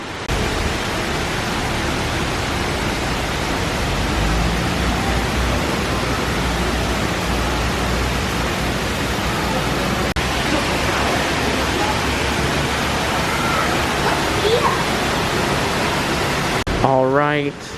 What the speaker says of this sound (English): we have waterfalls on both sides of the walkway